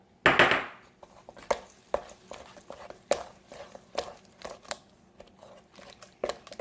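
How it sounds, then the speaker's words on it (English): Flaked coconut, a full cup, being stirred into custard for a coconut custard pie: a crinkly rustle at the start, then irregular soft taps and scrapes of a utensil in a bowl, close and fairly quiet, with no voices. "I'm going to mix this together."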